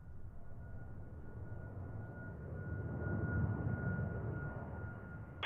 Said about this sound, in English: So here's our Sacramento flight. 737 MAX 8, Southwest Airlines.